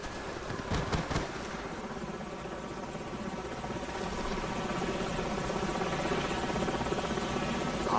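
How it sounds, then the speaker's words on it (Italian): Enemy helicopters in Call of Duty 4: Modern Warfare give off a low, continuous rotor drone that swells slightly louder partway through, with a few sharp impacts near the start and no speech. "Elicotteri nemici."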